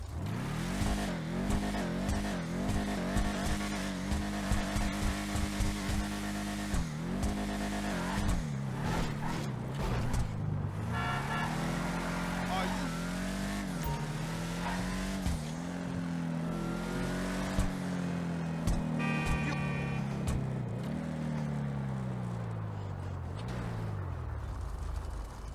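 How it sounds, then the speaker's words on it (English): Declasse Tulip car engine in GTA Online, a continuous loud run of revving and accelerating with rising and falling engine pitch and gear shifts, sustained throughout without talk. "So let's just take a listen to the vehicle to start off with."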